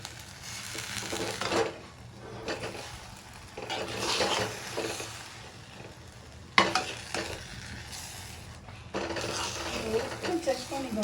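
A spoon stirs tomato varagu rice upma through a thick mixture in a pan, giving repeated scraping and sloshing strokes in bursts with brief pauses and a low sizzle underneath, close and fairly loud.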